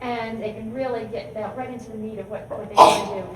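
A single sharp sneeze bursts out near the end, loud and close, right after a person speaking.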